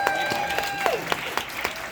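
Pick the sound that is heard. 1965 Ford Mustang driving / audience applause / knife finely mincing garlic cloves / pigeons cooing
audience applause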